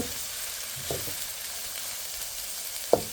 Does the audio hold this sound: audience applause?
no